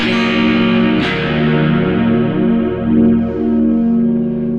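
A sustained electric guitar chord through an amplifier with distortion and a swirling, modulated effect, loud and held for several seconds.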